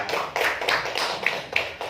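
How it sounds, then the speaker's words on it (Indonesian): A small audience of teachers at a school training session claps for themselves, a brief burst of scattered, moderately close hand claps with an uneven rhythm and no talking. "Bagus sekali, tepuk tangan untuk diri kita"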